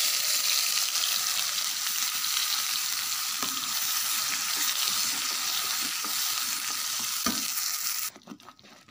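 Chutney hits a hot tempering in the pan and sizzles loudly and steadily. Stirring scrapes run through the frying, and the sizzle drops off abruptly near the end.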